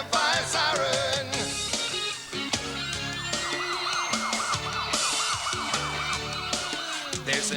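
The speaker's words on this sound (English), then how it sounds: "Put the pedal to the metal and hit the fire siren." A wailing emergency siren, presented as a fire truck's, sweeps up and down steadily over a busy background of music and other sounds, loud throughout.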